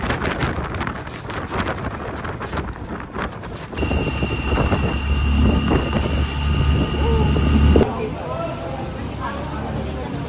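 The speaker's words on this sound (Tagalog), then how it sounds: "Sabog ang hangin" Strong wind buffets the microphone in loud, rumbling gusts on Boracay, with people talking under it.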